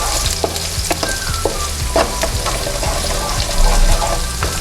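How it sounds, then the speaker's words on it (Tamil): Onion and garlic sautéing in a pan for a horse gram kuzhambu, a continuous close sizzle and crackle with occasional stirring scrapes and clinks, no voices. "இதோட பூண்டு சேர்த்துடலாம். ரெண்டும் கொஞ்சம் நேரம் வதங்கட்டும்."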